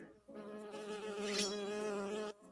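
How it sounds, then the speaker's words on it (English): A bee buzzes close by in a sustained, harmonic-rich drone that swells and wavers for about two seconds before stopping abruptly. "it's one of Sir Barrington's fantastical bees, and it's here"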